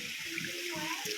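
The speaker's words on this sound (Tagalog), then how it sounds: "Ang hina ng bagsak ng tubig." A weak stream of water falls from a tap, a steady hiss punctuated by low splashy pulses, close and fairly loud for about a second.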